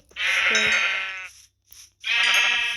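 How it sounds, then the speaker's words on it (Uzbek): Two loud, drawn-out Minecraft sheep bleats, close up, separated by a brief pause. "Qo'y."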